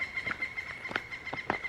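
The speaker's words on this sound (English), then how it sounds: "I love hearing the birds." Birds sing in a quiet wooded setting, with a steady high whistling tone and a few sharp chirps spread across the moment, all fairly faint and distant.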